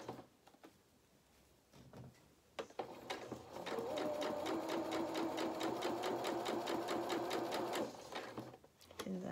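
A domestic sewing machine runs a steady, rapid stitching burst on pinafore fabric for several seconds, starting and stopping cleanly, close and fairly loud with a faint whirring motor tone and no talk.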